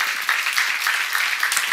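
An audience at a church seminar claps together in a brisk, even patter that keeps going the whole time, with no one speaking over it.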